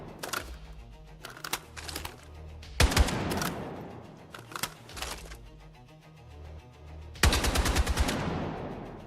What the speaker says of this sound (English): At the 7th bullet, the gun started to deviate.